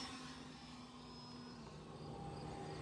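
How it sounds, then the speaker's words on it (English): Manned aircraft passing high overhead above a model flying field, a faint, steady distant engine drone with a thin whine, alone without speech. "I'm hearing manned aircraft, but I can't see because they're over the ceiling."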